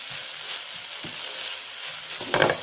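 Shawarma chicken filling stirred in a pan over a gas flame gives a steady, close sizzle of frying with a few louder scraping stir strokes near the end.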